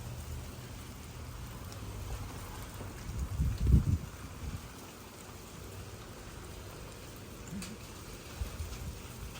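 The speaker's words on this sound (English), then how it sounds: "It's just rain" Steady rain falling outdoors in hot, humid monsoon-season weather with a little wind, a soft continuous hiss and one brief louder gust or rumble early on.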